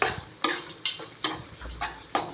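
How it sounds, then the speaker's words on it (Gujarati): A spoon stirs lauki (bottle gourd) halwa mixed with roasted dry fruits in a pan, making about six evenly spaced scraping strokes, close and fairly quiet, with a soft sizzle between them. "અને હવે આને બરાબર હલાવી દઉં છું."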